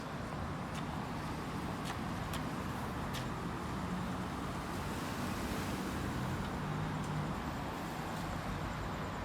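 Highway traffic at night in Warrens, Barbados rolls by as a constant broadband roar and hiss, with distant vehicles blending into a steady wash and a few faint clicks on top.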